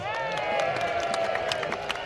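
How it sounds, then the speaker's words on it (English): A crowd at the Battle of Evesham festival reenactment cheers and claps steadily, a dense wash of whoops and applause heard at moderate distance. "Give them a cheer!"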